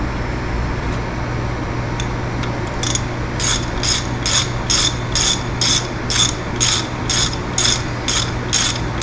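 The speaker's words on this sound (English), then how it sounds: "Let's get these threads nice and clean so we can get good torque on them when we reassemble" A ratchet clicks in quick, regular bursts, close and steady, while bolt hole threads are cleaned out on a small block Chevy engine, with a low hum underneath.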